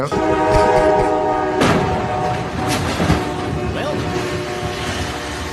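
A Norfolk Southern train sounds its horn nearby, a loud sustained multi-tone blast over the rumble of passing rail cars.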